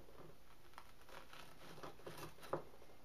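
A knife slices through a piece of toasted rye bread on a plate, giving faint, scattered crunchy crackles with one sharper snap near the end, quiet and close with no talking.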